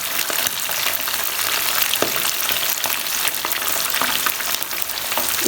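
Chicken kofta frying in a preheated pan, giving a loud, dense, continuous sizzle with faint crackles throughout and no voices.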